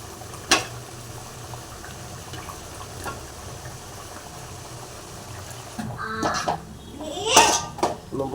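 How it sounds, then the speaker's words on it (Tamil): Water poured into a boiling tamarind kuzhambu with bitter gourd, a low bubbling simmer giving way to a louder splashing pour near the end, with no talk. "அடுத்து தண்ணி ஊற்றுறீங்களா குழம்புக்கு?"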